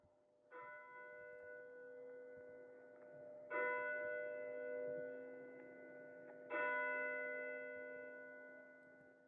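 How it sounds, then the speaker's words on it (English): Church bells ring out in three distinct strokes, each a bright metallic clang that hangs and slowly fades before the next, heard softly and at a distance over a quiet background. "Approach the church and you can hear the bells ringing."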